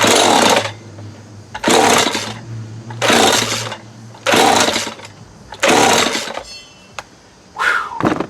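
A McCulloch FR2.0 chainsaw, badly out of adjustment, runs in loud bursts: five roughly one-second surges of engine noise with quieter idle between them and a short final rev, close to the microphone.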